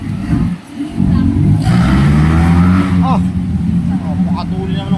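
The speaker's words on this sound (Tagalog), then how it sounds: "Napadaan tayo sa tunnel." A car drives through a tunnel by a building under construction, with a loud, steady engine drone and road roar close by, a slight rise in pitch as it accelerates, and some faint voices underneath.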